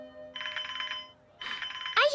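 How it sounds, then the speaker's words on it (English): A cartoon telephone rings in two bright, trilling bursts separated by a short gap, loud and close, followed by a voice starting to speak. "It's my phone."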